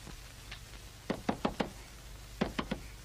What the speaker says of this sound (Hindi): लीलो, दरवाजा खोल